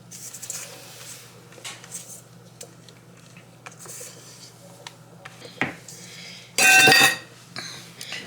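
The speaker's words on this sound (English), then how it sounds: "I'm going to incorporate the eggs into the sugar and the butter and mix that up" Eggs, sugar and butter being mixed in a bowl for a tres leches cake, giving soft, steady scraping and rubbing sounds with occasional clinks of the utensil, then a louder burst of clatter near the end.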